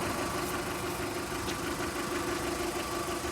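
A 1.4-litre car at a salvage auction idles steadily, a continuous mid-pitched engine hum with a faint knocking texture throughout, no talking.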